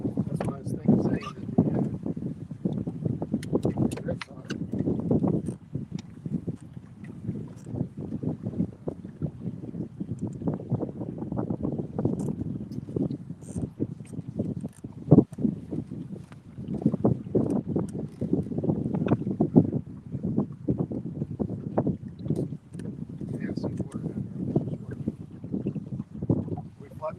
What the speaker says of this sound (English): The wind is kicked, man.